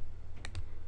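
Two quick soft button clicks from a calculator being keyed in for a natural log calculation, close and isolated over a low background hum.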